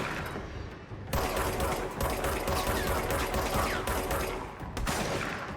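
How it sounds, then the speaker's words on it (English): Gunfire in the action video game Control, a dense, loud burst of rapid shots and impacts rolling on almost continuously, with no talking. "Oh yeah, those are great headshots."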